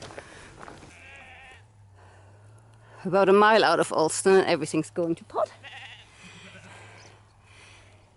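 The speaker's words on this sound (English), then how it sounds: "The sheep are having a major argument." Sheep bleating loudly and repeatedly in a noisy cluster of overlapping calls, following someone speaking briefly, with wind noise in the background.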